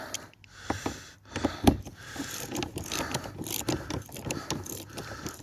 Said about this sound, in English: I'll bore you by letting you watch me actually tighten a bolt